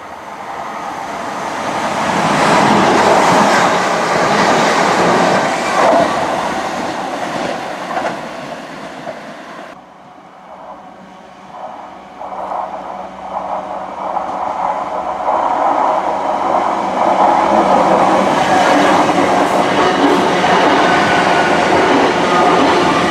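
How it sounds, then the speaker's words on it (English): Trains roll through Guide Bridge station on the Woodhead Route near Manchester, a loud sustained rumble and rail roar that dips briefly mid-way, then builds again as another train passes close by. "so I can see the trains coming in advance"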